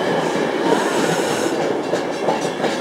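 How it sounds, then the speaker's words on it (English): A train of a few carriages rolls past close by, a steady broadband rumble with faint wheel clatter running unbroken throughout. "These trains here."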